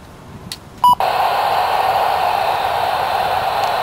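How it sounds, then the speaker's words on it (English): A brief electronic beep as an ICOM two-way radio powers on, then a steady hiss of static fills the rest of the clip at a fairly loud level. "and you'll hear a short beep."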